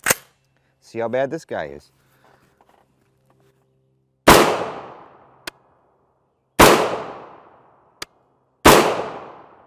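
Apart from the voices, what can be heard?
5.56 rifle shots, 7.5 inch barrel, 55gr FMJ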